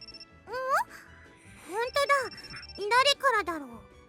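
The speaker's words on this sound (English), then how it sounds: "Makina, your cell phone seems to be ringing." A cell phone inside a video game rings in short, bright, warbling tonal bursts. Three separate chirping phrases rise in pitch, with gaps between them, and the ringing sounds clear and close.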